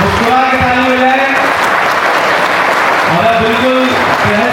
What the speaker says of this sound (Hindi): मुस्कुरा के तालियां बजाएं